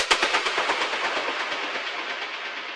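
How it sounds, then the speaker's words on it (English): A reversed psytrance impact effect in a melodic techno track: a dense wash of noise with rapid pulsing flutter that slowly thins and fades across under three seconds. "this is like a psytrance impact, but I reversed it"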